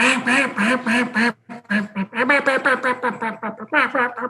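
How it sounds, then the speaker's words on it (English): A duck call is blown by mouth, producing loud, close quacks in quick bursts: a rapid run of sharp, nasal notes, a brief pause, then a longer choppy string of quacks. "I'm wanting to basically go what I'm blowing in a duck call"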